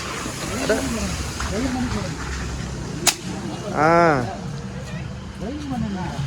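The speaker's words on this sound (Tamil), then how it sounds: "ஸ்லோவாக எய்ம் பண்ணி சுடுறேன்" Toy gun fired at balloons in a stall near a lake in Kodaikanal, with one sharp crack partway through amid busy crowd chatter, a passing vehicle horn, and voices talking throughout.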